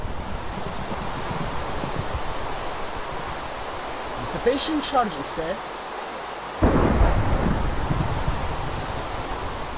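Minecraft rain and thunder from the Forestry mod: a broad steady rain hiss with a rumble of thunder, then the downpour swells louder near the end. Someone speaks briefly over it.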